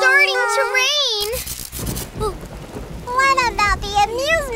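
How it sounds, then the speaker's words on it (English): Cartoon rain and thunder at an amusement park, a rumbling rush of rain and thunder breaking in between bright animated voices, with children's characters talking over the storm. "It's starting to rain!"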